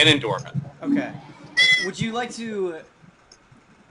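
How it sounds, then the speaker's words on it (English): A house cat meows several times in close succession, loud and near, with voices talking over and between the meows. "Whoa, that's a cat."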